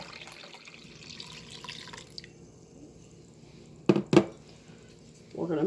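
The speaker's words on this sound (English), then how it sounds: "We're going to add some water." Water is poured into a mixing cup of dry ingredients for pizza dough, with a faint trickle, two sharp close splashes or clinks near the end, and a louder pour closing out, over a quiet kitchen background.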